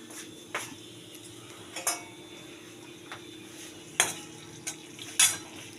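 Cumin seeds, bay leaf, dried red chillies and whole garam masala crackle quietly in hot oil for palak paneer, with a low steady sizzle broken by a few sharp clinks of a spoon against the pan.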